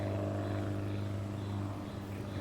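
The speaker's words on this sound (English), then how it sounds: "But then I heard the sound of an aircraft." A red de Havilland Beaver floatplane flies low overhead. Its propeller engine makes a steady, droning hum that stays constant throughout and dominates the scene, with no voices.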